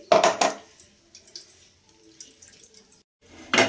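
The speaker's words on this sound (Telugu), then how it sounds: "ముందు మంటేయకుండా మనం దీన్ని వడపోసేసుకుందాం" Ground betel leaf paste liquid being strained in a kitchen for betel leaf halwa, with a close splashing, trickling pour at the start, quieter dribbles through the middle and another brief burst of liquid at the end.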